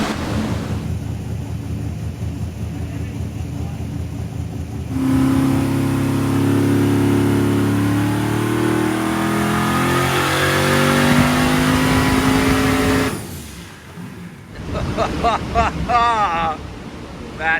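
A big block twin-turbo engine burning 98 octane revs hard, a loud rising roar that holds for several seconds, then drops away to idle, with voices talking before and after.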